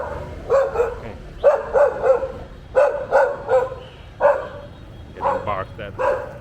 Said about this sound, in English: Getting barked at.